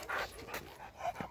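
Dog panting outdoors on a street during attack-and-guard training, with a few quick rhythmic breathy bursts close to the microphone and no talk.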